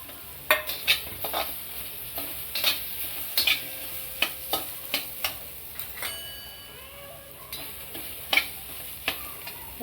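Chili thecha sautéed in a pan for matar karanji filling, with a steady soft sizzle under repeated clinks and scrapes of a spatula stirring against the pan, close and moderately loud, no talk.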